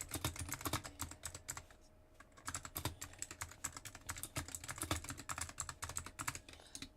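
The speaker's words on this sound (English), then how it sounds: "Yo, who is typing this?" Rapid computer keyboard typing in close, crisp bursts of keystrokes with a brief pause partway through, alone without any voices.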